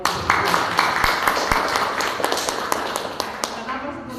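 An audience at a high school writing competition award ceremony claps in a steady, dense patter of overlapping hand claps at moderate volume, with a voice speaking over it.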